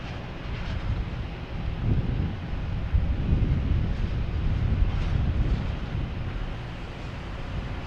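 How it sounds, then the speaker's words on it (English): Gusty wind blows at Boston Logan Airport, a continuous rumbling buffet against the microphone that swells and eases over several seconds, with no voices. "The wind is gusty, I should say, around here."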